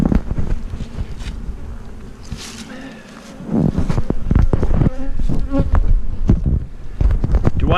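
Honey bees from a backyard beehive drone loudly and close, a dense continuous buzz whose pitch wavers as individual bees fly past, with a short quieter lull partway through.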